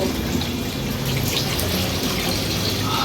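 Tap water runs steadily over food being washed in a home kitchen, a close continuous splashing rush with no talk.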